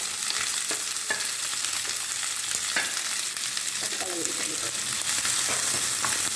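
Onions, green chilies and curry leaves sizzle steadily in hot oil in a pan while being stirred for a masala idli snack, with scraping stir sounds over continuous frying.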